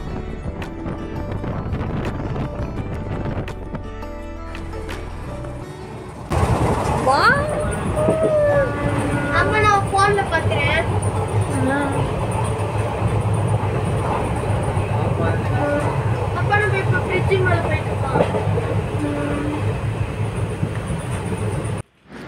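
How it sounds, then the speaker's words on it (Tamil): An express train near Kollam Junction, Kerala, rumbles steadily, its wheels clattering rhythmically on the rails, with a louder, closer rush after a quieter start. "இப்போ ட்ரெயின் வந்துடுச்சு."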